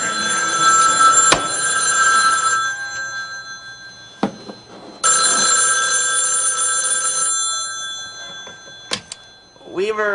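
A telephone bell rings in two long bursts separated by a pause, with sharp clicks in between and a short tail at the end.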